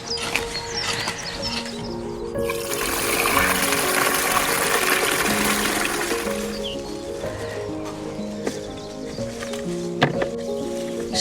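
Water gushes steadily from a hose or can onto garden plants for several seconds in springtime, a close splashing rush, with birdsong running through the background.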